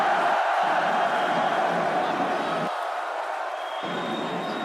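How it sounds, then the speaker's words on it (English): A home football crowd in the stadium cheers at a Nations League match between Greece and Ireland, a broad sustained roar that stays loud and even, with faint talk mixed into the din. "the home crowd very happy to see the pressure relieved"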